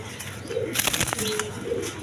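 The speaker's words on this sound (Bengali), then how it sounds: "এখানে এক পেয়ার কোকা কবুতর আছে" A pair of Koka pigeons coo softly at close range in a short, low, throaty call, with a few faint chirps and small rustles around them.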